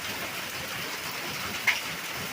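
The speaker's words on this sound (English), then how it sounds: "That's what I call a good hard rain." Hard rain pouring steadily, with a little hail mixed in, a dense continuous hiss with one brief sharper hit partway through.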